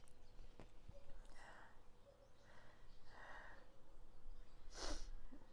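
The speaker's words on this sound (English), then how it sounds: "If I don't sneeze first." A single sneeze near the end of a quiet spoken spiritual reading, a sharp burst following a few faint breaths and sniffs over low background hiss.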